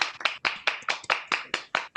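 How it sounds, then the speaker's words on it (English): Hand claps at a university commencement, about nine crisp, evenly spaced claps in a steady rhythm, close and clear with no talking. "Let's give some claps."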